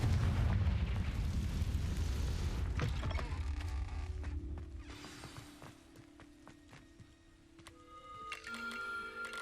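A Confringo fire spell in Hogwarts Legacy erupts as a heavy, booming blast that rumbles and fades over a few seconds, followed by lighter clanks and scattered game sound effects.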